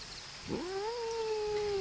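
A cat lets out a single drawn-out meow that rises and then holds a long wavering tone, close and clear over a quiet background.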